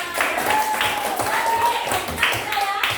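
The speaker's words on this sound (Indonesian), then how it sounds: "Oke, tepuk tangan." A classroom group claps their hands together, a short burst of steady clapping while a voice talks over it.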